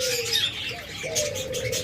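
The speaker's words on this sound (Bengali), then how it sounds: "এখানে নিউ অ্যাডাল্ট ডায়মন্ড ঘুঘু রয়েছে" Diamond doves kept in cages at a bird sale coo and chirp in repeated soft calls, with occasional wing flutters close by and busy bird chatter behind.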